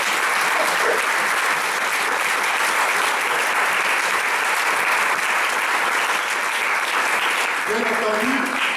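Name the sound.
congregation applause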